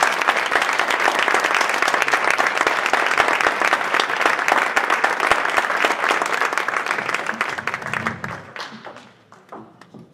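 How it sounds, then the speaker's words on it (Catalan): A large audience at a Compromís campaign rally applauds loudly and continuously, a dense wash of clapping that fades out near the end. "m'agradaria que rebereu amb un fort aplaudiment a Tània i a Giovanna."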